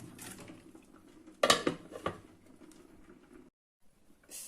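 A lid clatters onto a pot of autumn soup with added cream, a sharp metallic clink and rattle amid soft kitchen clatter, then quiet.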